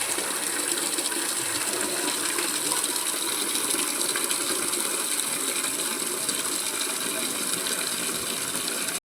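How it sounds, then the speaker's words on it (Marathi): An electric water pump motor runs steadily with water gushing out, a constant loud rushing, rattling noise held unchanged throughout, close by and with no speech. "आपण मोटर चालू करून पाणी आणूया चला."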